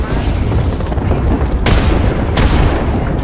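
In the video game Apex Legends, grenade explosions go off as two heavy, broadband booming bursts over a dense, noisy mix of rumbling game audio.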